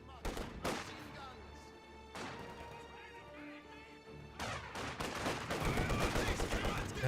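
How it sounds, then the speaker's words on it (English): 120mm mortar rounds firing and exploding in the video game Company of Heroes 2, with several heavy booming blasts spaced a couple of seconds apart amid ongoing battle rumble and crackle. "Now here comes 120mm mortar."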